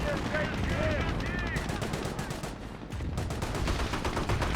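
Rapid bursts of gunfire and explosive weapon shots from a Company of Heroes battle crackle continuously, dense and fairly faint, with a voice commentating over the combat.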